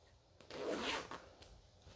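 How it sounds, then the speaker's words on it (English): A zipper on a fabric shoe washing bag is pulled closed in one smooth, close pass of about half a second, a quiet rasping zip with faint handling noise before and after. "And then it just zips up"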